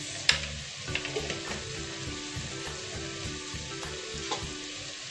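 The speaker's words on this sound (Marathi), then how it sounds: "व्यवस्थित असं परतून घेते।" Agri masala spice mix sautés in a pan with a soft, steady sizzle and a few light spoon scrapes, close and fairly quiet, with no voices.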